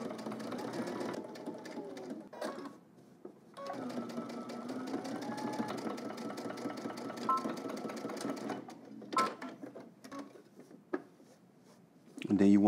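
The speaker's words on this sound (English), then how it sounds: "We're gonna stitch, edge stitch all the way across and then up to the other side, leaving the top free for the pocket" A sewing machine edge-stitches across a pants pocket, running in long steady bursts with short pauses between passes, close and clear.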